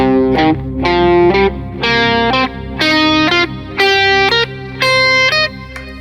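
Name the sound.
guitar playing pentatonic notes alternately short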